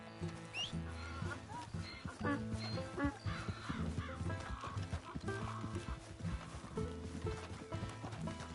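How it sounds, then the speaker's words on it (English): A donkey brays in Red Dead Redemption 2 with harsh, repeated calls alongside clopping hooves and a music bed, set at a homestead during a robbery. "It's just a donkey, idiot."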